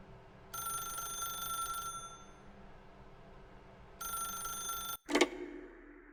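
Old-style telephone bell in the video game The Stanley Parable, two long trilling rings separated by a pause, moderately loud and alone, followed by a brief clatter as the receiver is picked up.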